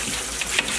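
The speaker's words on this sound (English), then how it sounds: "make sure you wash them really good because you need water to be on every single bit of your grapes" Tap water running and splashing over grapes being rinsed in a kitchen, a steady close gush with a couple of brief splashy bursts.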